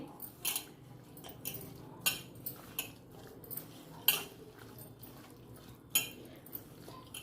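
Pulao masala mixed with kasuri methi in a pot, scattered sharp metallic clinks of a spoon striking the pot at an uneven pace, close and clear against a quiet background.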